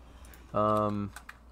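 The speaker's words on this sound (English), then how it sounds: "Let me type it." Typing on a computer keyboard: a few soft, scattered keystrokes sit around a short, sustained hummed tone, with quiet room noise in between.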